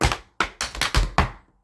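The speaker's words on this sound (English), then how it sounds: "If you choose to do the maxi forward with a pullback," Around six close, snappy tap-shoe hits of a maxi forward with pullback in a fast uneven rhythm, a couple landing heavier like stomps, ending with a brief ringing decay.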